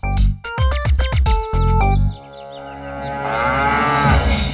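A buffalo lets out several loud, close moos in quick succession, followed by a longer drawn-out low call that fades and rises again.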